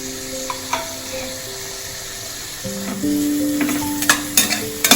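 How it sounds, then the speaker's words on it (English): Tomatoes sauté in a hot pan with a steady sizzle. Faint clinks and scrapes of stirring break in now and then, and nobody talks. "Just saute them."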